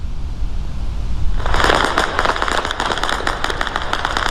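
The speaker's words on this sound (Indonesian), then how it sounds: "rentetan senjata dan ledakan terdengar di berbagai titik kota Erbil" A loud burst of rapid cracking gunfire and explosions over a city in Erbil, Iraq, starts abruptly and continues in dense bursts, distant but sharp over a low background rumble.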